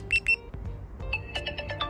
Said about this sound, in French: ça fait sonner mon téléphone